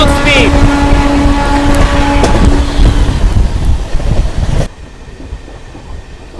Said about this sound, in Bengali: মারাত্মক স্পিডে পাস হচ্ছে মারাত্মক